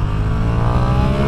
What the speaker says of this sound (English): Half throttle wheelie.